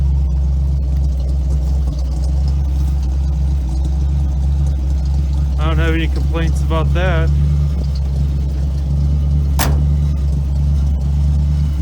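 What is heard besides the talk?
1969 Ford F100 engine idling high after first start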